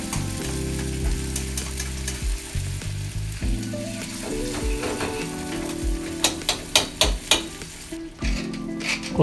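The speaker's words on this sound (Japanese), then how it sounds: "これを弱火で煮詰めていきます。" Sardine tomato sauce simmering and sizzling over low heat in a pan, a steady close bubbling with occasional stirring and clinks of a utensil against the pan near the end.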